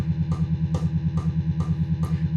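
Guitar Pro playback of a sixteenth-note metal rhythm: a steady, rapid chugging pulse of evenly spaced low notes, with brighter accents recurring over a heavy continuous drive.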